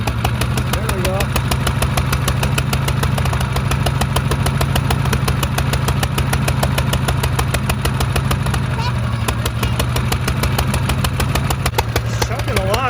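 A Kubota lawn tractor engine idles unevenly just after starting, chugging steadily below full power, loud and close with a constant mechanical drone throughout.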